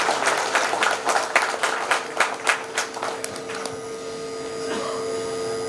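An audience at a Singareni coal mine annual safety fortnight event in the Srirampur area claps in scattered, uneven bursts for about three and a half seconds, then it fades into a steady hum.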